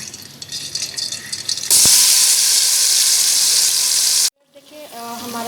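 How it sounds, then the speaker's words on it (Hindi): Mutton pieces dropped into hot oil left from browning onions burst into a loud, sustained hissing sizzle that cuts off suddenly, followed by quieter clinks and faint frying. "जिस ऑयल में जो है मैंने प्याज ब्राउन किया था, अब उसी ऑयल में जो है मैं ये सारा गोश्त डाल दूँगी और इसको पकाऊंगी।"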